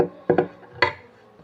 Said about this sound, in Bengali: ভালো করে লেবুর রসটা ভালো করে এর মধ্যে মিশিয়ে নেব